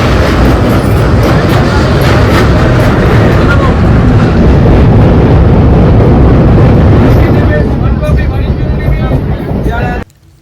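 A passenger train in Bengal rolls steadily toward Kasimbazar, its loud continuous rumble and rattle filling the whole stretch with wind buffeting the microphone, then cutting off abruptly near the end.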